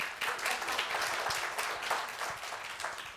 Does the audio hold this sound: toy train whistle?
no